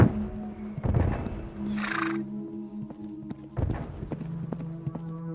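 A horse in a War of the Worlds fan video game clip-clops with hooves on hard ground and gives a short, high whinny, with a few irregular footfalls under a low ambient drone.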